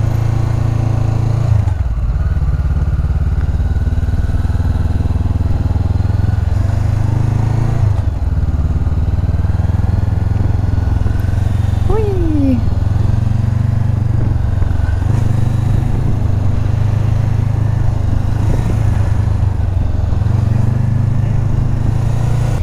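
A motorcycle rides a safety training course at the ÖAMTC, its engine droning steadily and loudly close by. Throttle shifts come and go, and a brief rising whine sounds partway through.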